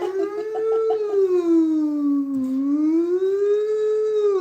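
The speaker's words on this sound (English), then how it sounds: "But the freaking siren of the police cars" Police car siren wailing in a single long, slow sweep that rises, dips and rises again, loud and fairly close with no talk over it.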